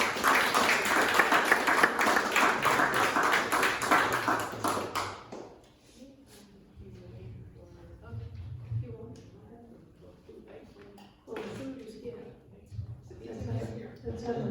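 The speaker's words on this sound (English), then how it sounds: "let's have another round of applause for those speeches that sent shivers down my spine" Audience clapping at a League of Women Voters voter registration event, a loud sustained burst of applause that fades away, followed by quieter room noise and scattered sounds.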